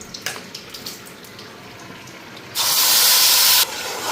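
Spices hit hot oil in a pan and burst into a loud, bright sizzle that lasts about a second, after a few soft clicks and quiet hiss, then fade back to a low crackle.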